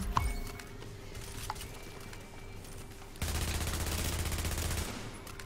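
Gunfire in the shooter game The Division: a sharp shot at the start, a few scattered reports, then from about three seconds a dense, sustained burst of rapid automatic fire that runs loud to near the end.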